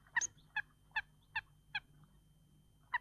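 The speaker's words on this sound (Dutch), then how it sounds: "De meerkoeten zijn nu ook actief." Eurasian coots call along a reed bed in a Dutch wetland, giving six short, sharp honking notes at uneven intervals that stand out clearly against a quiet background.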